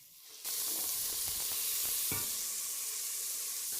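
Bacon and small onions fry in fat in a pan for boeuf bourguignon. A loud, steady crackling sizzle starts abruptly after a brief quiet moment, with scattered pops over the hiss.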